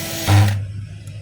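Brief metallic rattle and scrape while screws are tightened on a DeWalt D25032 rotary hammer, one short burst up close that fades into quiet.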